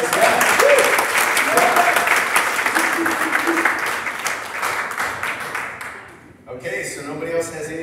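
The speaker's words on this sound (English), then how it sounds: "let's give another hand clap" A congregation at a Sunday worship service claps hands in a full round of applause for about six seconds before it fades, and a voice begins talking near the end.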